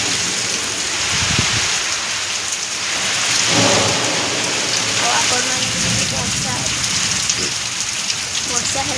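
Steady heavy rain pours down continuously, a dense close hiss over a rural home with faint low rumbles mixed in throughout.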